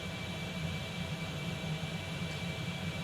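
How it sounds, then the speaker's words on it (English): A Concorde taxiing in X-Plane 11 gives off a steady, loud jet-engine whine and roar with a thin high tone on top, constant and unbroken for about three seconds. "So, aircraft's now rolling along. We are under the aim power of the aircraft."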